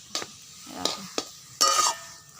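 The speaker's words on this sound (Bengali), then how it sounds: "আর এখন আমি নাড়িয়ে চাড়িয়ে এটাকে ভালো করে নাড়াতে হবে।" Vegetarian food stirred in a frying pan, a utensil scraping through it in several short strokes with a sizzle underneath and one longer scrape near the end, close and clear with no talk.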